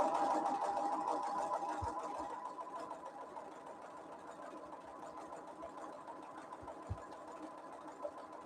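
A sewing machine stitches a seam with a steady, close, fairly quiet mechanical whir that runs the whole time, with a couple of faint thumps along the way.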